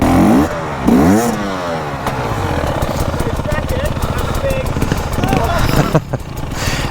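A KTM EXC 300 two-stroke dirt bike engine revs and bubbles loudly near a steep drop, rising and falling in pitch, with voices talking over it at the start.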